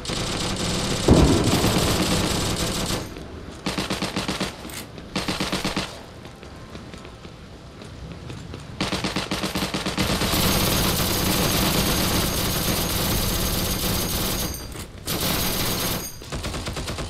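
Bursts of automatic machine gun fire in the World War II shooter game Heroes & Generals, long sustained volleys broken by short pauses, loud and close, with no talk over them.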